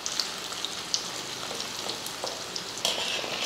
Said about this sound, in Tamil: எண்ணெய் காஞ்சதுமே பன்னீர் வந்து பொரிச்சு எடுத்துடலாம்.